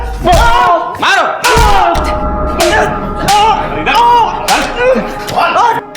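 Thuds of someone being beaten in a police lockup crime drama: a rapid series of heavy, close blows and slaps, with pained vocal cries mixed between the impacts.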